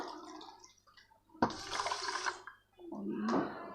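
A short gush of water pours from a cup into a cooking pot with rice and lentils for sweet pongal, splashing for about a second before stopping, with quieter handling sounds around it.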